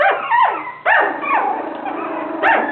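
A puppy lets out a few close, high yipping barks in quick bursts, each with a whiny tail, loud and alone.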